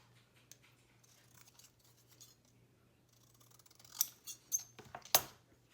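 Scissors snipping paper for a Christmas junk journal, a few sharp crisp cuts clustered near the end after a quiet stretch of soft handling noise and a low steady hum.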